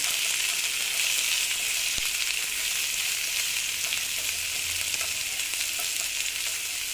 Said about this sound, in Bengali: আবার গাজরটা ভেজে নিচ্ছি।